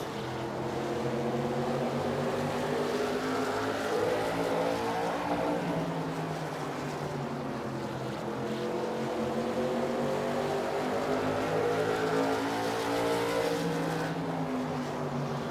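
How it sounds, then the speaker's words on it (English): Several late model race cars roar continuously around a paved oval at a West Pro Series event, engine drones rising and falling as the cars pass, steady and fairly loud with no speech. "Mitch Lennon going to make his way around the lap car of Ryan Borgs right there"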